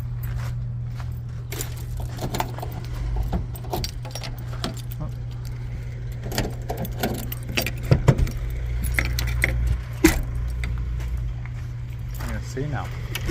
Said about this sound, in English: So I grab the keys